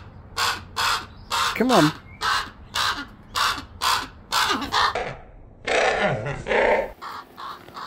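A raven calls for food during recall training, giving a series of short, loud, rhythmic caws with brief gaps, close by, with a person speaking briefly between the calls.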